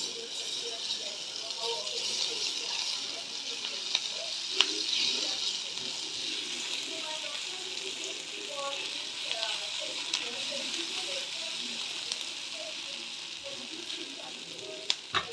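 Green chilli and grated ginger fry with eggplant in hot oil, giving a steady, soft, close sizzle with occasional light stirring clicks throughout.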